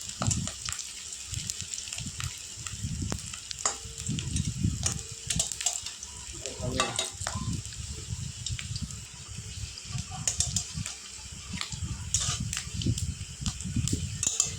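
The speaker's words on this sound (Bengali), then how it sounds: "বড়াগুলো প্রায় ভাজা হয়ে এসছে" Fish roe fritters frying in oil in a pan, a continuous bubbling sizzle with irregular crackles and occasional utensil clinks, close and fairly quiet throughout.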